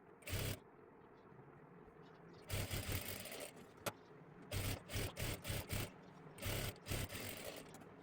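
A sewing machine runs in short bursts while stitching a dress lining cut from a sari, its rapid mechanical whirring coming in clustered runs separated by quiet pauses, close and without talk.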